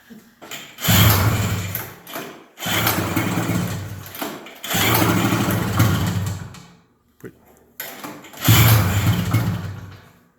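A small engine with the choke on is pull-started several times in bursts, each pull bringing a loud, rough sputter that dies away between attempts.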